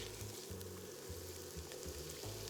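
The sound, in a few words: spices toasting and sizzling in a pot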